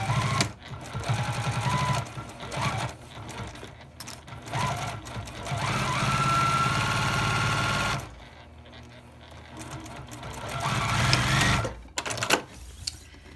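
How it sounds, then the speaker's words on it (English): Sewing machine stitching along a zipper on a plastic-lined makeup bag, with bursts of fast, even mechanical whirring that speed up, stop and restart, close and fairly loud between quiet pauses. "Okay, so just sew along the zipper."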